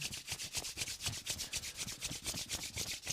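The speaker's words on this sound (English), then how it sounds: "rub your hands together, make them nice and warm" Palms rubbed briskly together to warm them, a steady run of quick back-and-forth swishes repeating about five times a second, close and clear with no talking.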